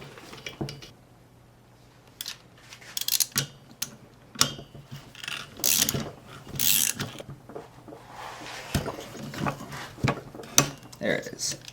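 Ratcheting and metal clicks from tightening the flywheel flange nut on a Puch e50 moped engine, with the piston held by a piston stop; irregular bursts of mechanical clatter with quiet gaps between them, close to the microphone.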